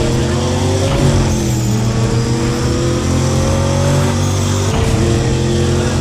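Race car engines idle and rev at the starting line in Need for Speed ProStreet, a loud, steady mechanical drone with rising and falling pitch from several engines over six seconds, with no speech.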